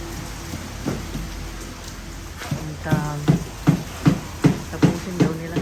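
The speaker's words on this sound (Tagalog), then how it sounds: "Kusog man ang ulan." Heavy rain pours steadily as broadband noise, joined partway through by a run of sharp, regular knocks or thumps and some low voices in the background.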